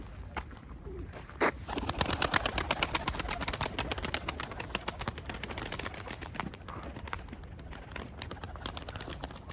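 Pigeons coo inside a coop, with a steady low murmur of calls and rapid fluttering, clicking bursts over nearly ten seconds at moderate volume.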